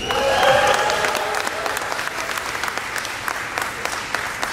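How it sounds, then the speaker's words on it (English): An audience at a Cisco event breaks into dense applause, loudest at the start and then settling into steady clapping that carries on for several seconds. "if you want immediate applause, just call Susie's name out"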